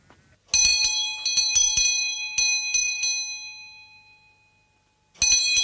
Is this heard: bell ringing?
yes